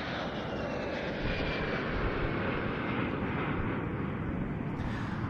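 A de Havilland Vampire jet in Italian Air Force colours, operated by the Norwegian Air Force Historical Squadron, flies at a Duxford air show, a steady broad engine roar lasting throughout with no speech.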